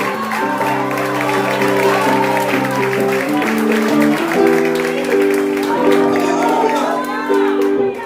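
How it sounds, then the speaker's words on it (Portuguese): Church congregation applauding at a first service of the year, clapping and cheering blended with sustained sung or shouted voices and music, loud and continuous throughout. "E se você crer, aplaude Deus."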